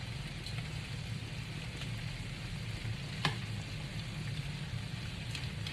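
Shrimp scampi sizzles in a pan, a continuous crackling fry with a brief sharper tick partway through, close and moderately loud with no talking.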